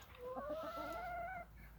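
A chicken gives a brief, drawn-out clucking call close by, faint and alone over a quiet farmyard background.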